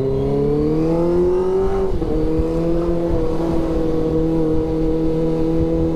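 A Kawasaki ZX25R motorcycle engine revs loudly and steadily at high pitch, with a brief dip and recovery near the middle, close by and with no talking.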